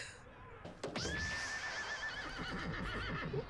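A horse in One Piece anime gives a loud, shrill whinny that rises sharply then trembles and wavers for about two and a half seconds, close and prominent over faint background sound.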